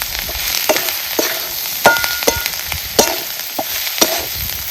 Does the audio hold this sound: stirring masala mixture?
yes